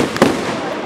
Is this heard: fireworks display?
yes